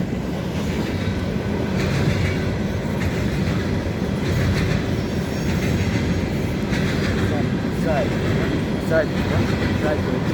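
A train rolls past on rails at a railfan spot in Elkhart, Indiana, with a steady loud rumble and faint wheel squeal throughout, while people talk over it.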